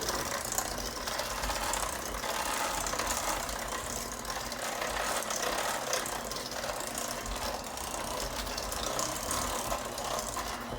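An electric mixer runs steadily while beating vanilla cake batter with flour worked in, a loud, continuous whirring drone that stays close and even throughout with no one talking.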